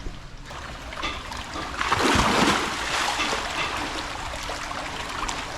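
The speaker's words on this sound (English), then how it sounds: "I'm gonna go for a swim now myself." A person jumps into lagoon water at Sugba Lagoon, Siargao, making a broad splash that surges and settles into sloshing, rippling water over constant outdoor ambience.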